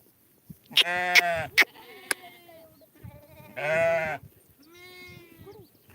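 Goats in a shepherd's herd bleat several times, loud and close, with short cries and two longer drawn-out calls separated by pauses.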